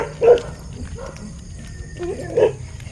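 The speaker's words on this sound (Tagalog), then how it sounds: "Kakatakot yung aso eh" A dog barks twice at a campsite in Tagaytay at night: one sharp bark near the start and another about two seconds later, fairly close, over a steady low background hum.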